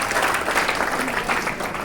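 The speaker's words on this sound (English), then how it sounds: "Give yourselves a round of applause." Dense, continuous applause from a crowd of participants at a student leadership summit, close and lively, with the clapping holding steady throughout.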